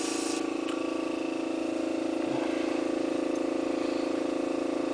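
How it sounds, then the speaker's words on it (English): An airbrush compressor runs at a constant mechanical hum with a steady motor buzz, close and unchanging throughout, with no voices. "turn your compressor on"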